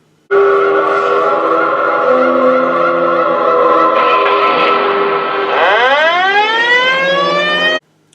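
An ambulance siren in a horror film wails loud and close, a held multi-tone blare that sweeps upward in pitch toward the end before cutting off abruptly.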